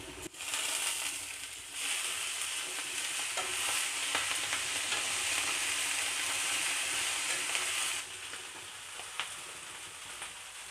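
Sachi greens tossed into frying onion, garlic and turmeric, a dense close sizzle that swells when the leaves go in, with scraping stirs and occasional clatter throughout, no voices.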